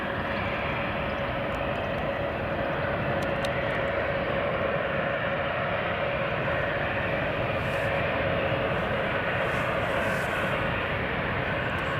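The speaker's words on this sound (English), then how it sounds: "there goes United A321neo across the pond to Bangor on delivery" A United Airbus A321neo taking off from Edinburgh Airport on its delivery flight, a steady broadband jet roar holding at a constant level, distant and unbroken.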